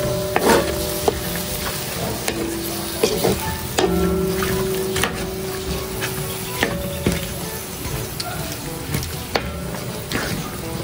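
Food seasoned with salt and pepper is stirred in a cooking pot over a low sizzle, with repeated spoon scrapes and sharp clinks against the metal at irregular intervals.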